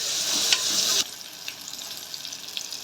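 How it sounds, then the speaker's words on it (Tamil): Onions and green chillies sizzle steadily in a hot pan for beef gravy, a bright continuous frying hiss with brief stirring scrapes, louder at first and then settling to a softer crackle. "வெங்காயம் வதங்கிருச்சு."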